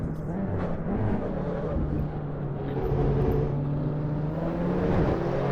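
Race car engines in a racing video game at Imola, with a group of Volkswagens ahead, drone steadily as a continuous layered whine and hum, holding a fairly constant pitch throughout.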